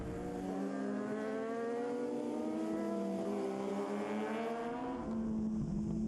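Road racing motorcycles at the Cookstown 100 road race sweep past with a high, whining engine note that climbs in pitch as they accelerate, sustained and fairly distant, with a second machine following close behind.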